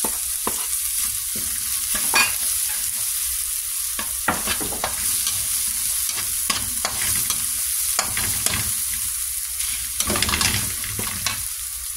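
Onion frying in a pan while cooking Filipino corn soup with garlic: a continuous loud, close sizzle with scattered sharp spatters and stirring scrapes, without talk.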